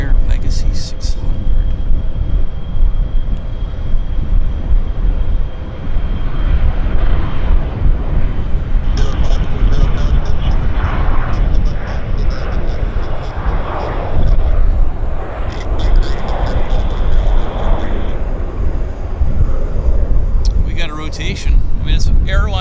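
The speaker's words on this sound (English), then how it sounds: "There it is, rolling. Embraer Legacy 600." An Embraer Legacy 600 business jet rolls for takeoff at Vancouver Airport, a steady low engine roar with wind buffeting, heard under people talking nearby.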